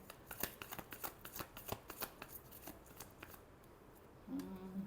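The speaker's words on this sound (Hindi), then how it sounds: "last shuffle" Tarot cards are shuffled in a quick run of soft riffling flutters, faint and close, ending with a short low hum.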